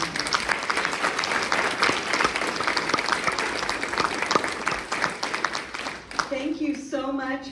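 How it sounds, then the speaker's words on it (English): Sustained audience applause at the 2023 Athlete Leadership Graduation ceremony, dense and fairly loud, fading near the end as a speaker's voice begins. "Let's give all of our athletes and mentors a round of applause."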